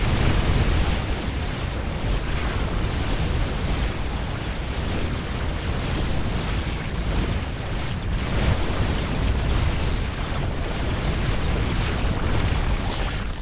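StarCraft II battle of Immortals against Ultralisks, a dense, continuous roar of explosions, bursts and impacts that stays loud and steady throughout with no talking.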